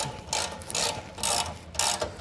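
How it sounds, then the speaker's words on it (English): A ratchet fitted with a 19mm socket tightens the bolts on a B and W Patriot fifth wheel trailer hitch. It gives four quick bursts of close, loud clicking, spaced out by short pauses. "Now I'm going to go ahead and just get these all tightened down using a 19mm socket."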